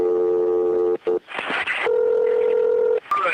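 Telephone tones during the transfer of an emergency call to EMS: a steady dial tone, a brief burst of keypad dialing, then another held tone and a fresh tone starting, with line noise underneath.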